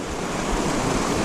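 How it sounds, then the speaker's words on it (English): Fast-moving creek water rushing through a canyon below Long Lake near Bishop Pass, a steady close broadband wash with no gaps, constant and fairly loud throughout. "I'm in this canyon, the water's moving really fast"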